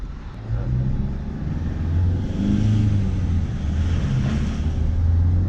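A car's engine after an ECU remap pulls hard at wide-open throttle in fourth then third gear, a loud, sustained low rumble that rises steadily without letting up.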